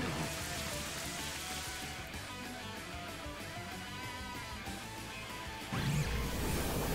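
Rain effect from the Rain Dance move in the Pokémon Scarlet video game, a soft, steady patter of rainfall on a surface, faint and continuous, swelling slightly near the end.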